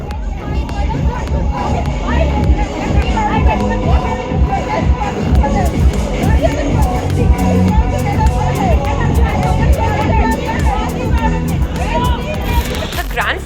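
A loud, continuous crowd uproar at a beauty pageant grand finale: many overlapping shouting voices and a dense babble of contestants, with shuffling movement, steady throughout.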